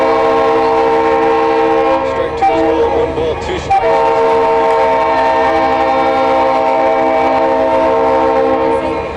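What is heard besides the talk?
passing train with horn near baseball field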